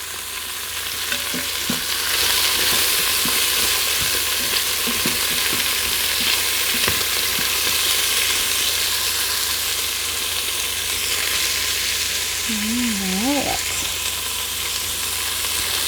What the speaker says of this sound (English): So this is going to caramelize the onion while it absorbs with those flavors, the leftover juices from the broth and the bacon